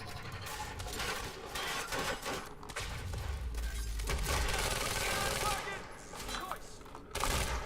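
Sustained gunfire aimed at the player in the video game Quantum Break, a steady rattle of rapid shots with deep booms beneath, while a person talks over it.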